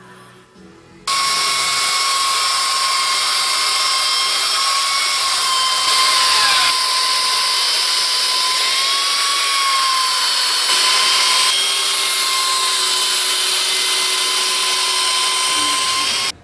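A power sander works over a wooden cabin kitchen table, giving a loud, steady high-pitched whine with a slight wavering pitch that runs unbroken for the whole stretch after a brief quiet start, with no voices.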